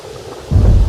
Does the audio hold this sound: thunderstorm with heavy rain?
yes